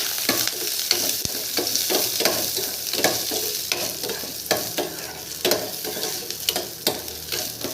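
Onions sauté in a pan, sizzling steadily under frequent scraping strokes of a stirring spoon, close and fairly loud with an irregular rhythm, and no voices.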